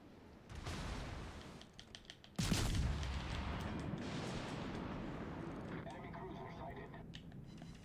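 Ship artillery from a World of Warships Legends naval battle fires in booming salvos, one loud sharp blast standing out mid-clip, with game noise and clicking around it and a voice talking.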